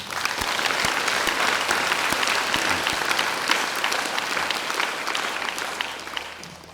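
A church congregation gives a standing ovation, with dense, steady clapping throughout that fades slightly toward the end.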